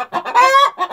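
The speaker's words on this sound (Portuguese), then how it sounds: "a festa que as galinhas fazem aí na hora de botar" A hen in a coop lets out a loud, close, drawn-out cackle framed by short clucks, the excited call made when laying an egg.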